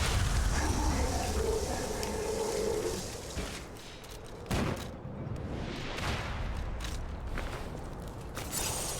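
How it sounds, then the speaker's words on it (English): Booming cannon fire and scattered gun blasts echo through a gloomy swamp level of a dark fantasy action game, loud at first, then sharper isolated impacts over a rumbling ambient bed. "there's someone up there with a cannon"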